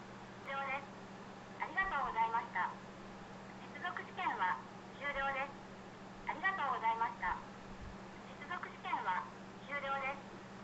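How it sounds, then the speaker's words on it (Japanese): A test call to number 111 from a povo SIM: a telephone-line voice recording plays in short bursts of speech over a steady low electrical hum, heard through the handset with no one speaking in the room. "発信テストはですね、111っていうところに電話をかけるとなってます。"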